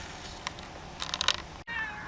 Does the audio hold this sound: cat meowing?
yes